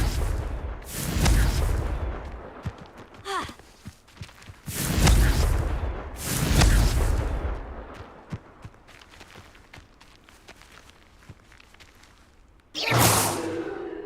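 Confringo fire spells exploding in the Hogwarts Legacy video game, heard as several loud booming blasts with whooshing tails spaced a second or two apart, followed by quieter gaps and a final sharp burst.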